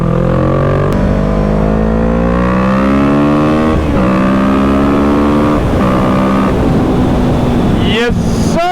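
A Kawasaki Z650 motorcycle ridden wide open on a street, its engine revving up through the gears in rising and falling sweeps, loud and close, with wind noise throughout and a brief gear-shift drop near the end.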